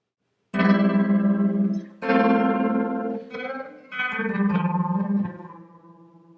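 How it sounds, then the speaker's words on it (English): An electric guitar plays a few sustained notes through a reverse delay effect, each swelling and smearing into the next with a warbling, processed tone. "I was able to get this delay by switching the pedal to reverse delay"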